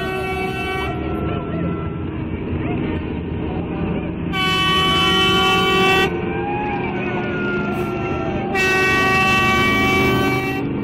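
Vehicle horns blast in long sustained tones at a town festival parade, sounding in two loud stretches over a continuous rumble of crowd and engines, with voices in the background.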